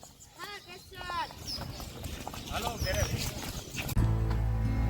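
A mare's hooves clip-clop at a steady walking pace in rainy weather amid outdoor background noise, ending in a loud rumbling engine-like drone.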